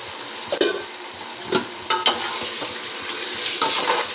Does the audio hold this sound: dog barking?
no